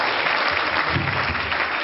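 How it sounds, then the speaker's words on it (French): Applause from an audience at an evening media awards ceremony, a steady, dense clapping that fills the whole short stretch at fairly close range with no speech over it. "Si vous l'applaudissiez un petit peu."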